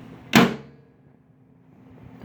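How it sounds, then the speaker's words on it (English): A microwave oven door shuts with one sharp close thump, nearby and fairly loud, followed by quiet room hum. "and again close the door."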